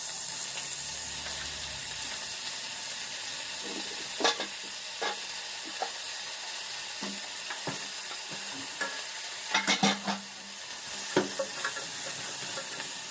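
Meat sizzles steadily in very hot oil with mastic, cardamom and bay leaves, while a utensil stirs and scrapes it, giving sharp clacks and clinks over the constant hiss.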